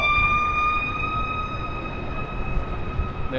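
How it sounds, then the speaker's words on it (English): Emergency vehicle siren wailing on a Friday evening in New York City, a sustained high tone over a rumbling street background, loud and steady and easing off near the end, with no talking. "There's no Friday evening without sirens in New York City. You gotta hear the sirens loud and clear."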